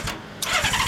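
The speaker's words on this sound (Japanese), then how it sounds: "ごめんなさい、エンジン音聞かせてもらえるかな。" A 1998 Honda Valkyrie 1500cc motorcycle, the SC34 with a modified stock muffler, cranks and fires, a short starter burst followed by the engine catching into a loud, throbbing idle.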